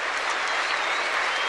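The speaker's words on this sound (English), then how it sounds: "the whole stadium rising to its feet to applaud the tournament's #1 seed" A stadium crowd at the 1979 Australian Open tennis final applauds the champion, a dense, even wash of clapping from many hands, loud and sustained throughout.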